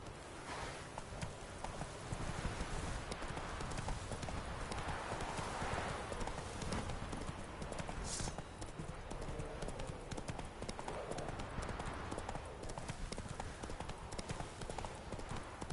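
Horse hooves galloping in the video game The Witcher 3: a dense, continuous patter of clip-clop hoofbeats over a steady rushing background, fairly quiet, with a faint whinny-like touch partway through.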